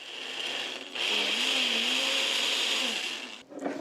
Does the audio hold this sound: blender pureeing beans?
yes